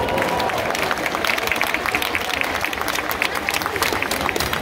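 Crowd in the stands at Mazda Stadium applauds after a boy throws the ceremonial first pitch before a baseball game, steady dense clapping with scattered cheers filling the whole stretch, fairly loud and continuous.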